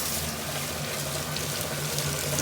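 Cold tap water runs steadily in a sink as freshly dyed fabric is rinsed, a continuous close splashing hiss with no talk over it.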